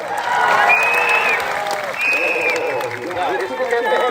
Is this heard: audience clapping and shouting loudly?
yes